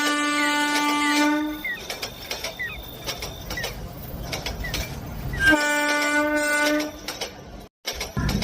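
A night passenger train running on its tracks with a long horn blast at the start and another midway, steady rumble and rattle of the carriages underneath, ending in a sudden brief drop.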